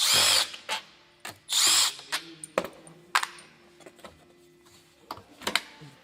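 Close, loud whirring bursts of a power tool spinning out two 10mm intake bolts on a 3.6 V6 Pentastar engine, two long runs followed by short blips, then clinks of metal parts being handled, with no talk.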